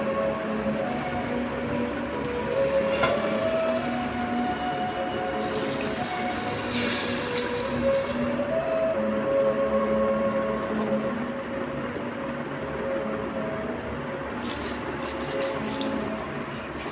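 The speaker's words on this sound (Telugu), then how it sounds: "ఇప్పుడు మనం ఇందులోకి ముక్కలు మునిగేంత వరకు వాటర్ యాడ్ చేయాలి" Water pours steadily into a pot of mutton being cooked into curry, a constant, close running-water sound lasting the whole stretch with no voices.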